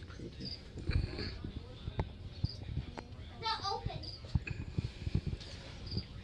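Crickets chirp in short high trills against a busy indoor pet store background, with a voice and scattered knocks and footsteps nearby.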